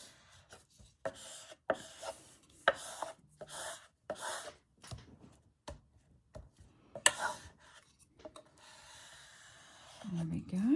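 Glued paper in a junk journal being burnished by hand, heard as irregular close rubbing and scraping strokes with short pauses, moderately quiet and alone.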